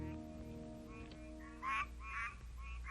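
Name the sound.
tree frogs calling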